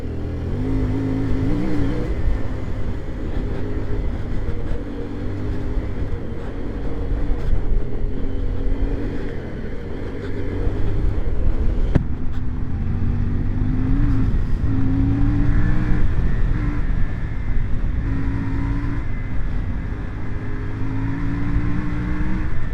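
A CFMOTO Ibex 450 adventure motorcycle rides off-road with traction control and ABS switched off, its engine droning continuously and rising and falling in pitch with throttle and gear changes, steady and close throughout.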